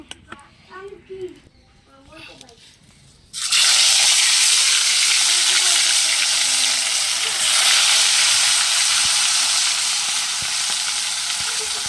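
Fish sizzle loudly in hot oil, a sudden steady frying hiss that starts partway through and continues unbroken after quieter kitchen sounds and a voice beforehand.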